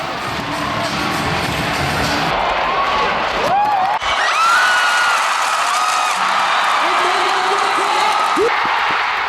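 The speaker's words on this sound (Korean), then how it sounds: "드디어 용기가 생겼는지 환호성을 지릅니다." A man cheers loudly amid a basketball arena crowd, his whoops rising over steady crowd noise, cheering and scattered applause throughout.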